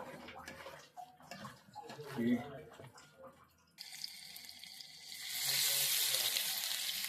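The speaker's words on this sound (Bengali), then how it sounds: "তেল দিছি গরম করার জন্য" Cooking oil heating in a pan at night before frying onion fritters (peyaju), a bright sizzling hiss rising midway and growing louder and steadier toward the end, with faint kitchen clatter beforehand.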